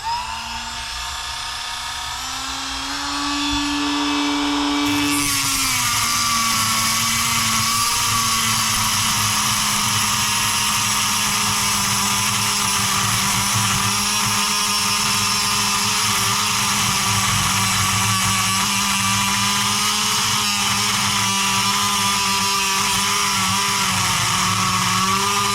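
A Dremel rotary tool cuts through a drag car motor shaft, starting with a lower whine that jumps to a loud, steady high-pitched grinding scream sustained close up with no talk.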